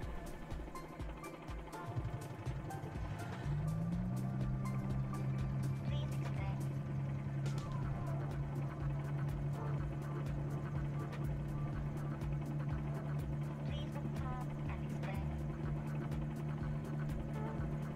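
A helicopter engine in Microsoft Flight Simulator 2020 spools up over a few seconds into a steady droning whine that holds for the rest of the clip, with faint clicks and a voice talking over it.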